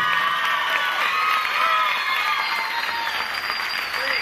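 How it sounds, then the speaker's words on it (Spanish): Theatre crowd at a concert applauding loudly, dense continuous clapping mixed with cheers, whoops and high shouts over about four seconds. "Los aplausos bien fuerte."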